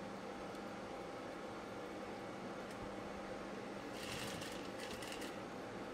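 A sewing machine stitches a blouse with a steady whir. Near the end it breaks into a quicker burst of rapid stitching clatter.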